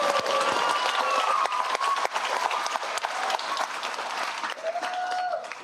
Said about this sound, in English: Could we get a big round of applause for all of our community that showed up tonight?